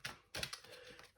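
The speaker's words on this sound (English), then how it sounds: "just going to shuffle the cards. I'm using standard Rider-Waite tarot cards." A deck of Rider-Waite tarot cards is shuffled close up and quietly, giving a few short riffling bursts with light taps between them.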